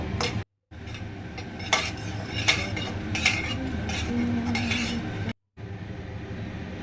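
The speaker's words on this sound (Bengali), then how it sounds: "মশলাটা আমি শুকনো খোলায় ভেজে নেব" Coriander, cumin, dried chillies, black pepper, carom and five-spice dry-roast in an unoiled pan, with a spatula scraping and clinking against the metal in rapid repeated strokes over a faint rustle, close and without speech.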